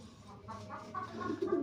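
Soft, low cooing from pigeons nearby, a few rounded murmuring calls rising slightly toward the end, with no talk.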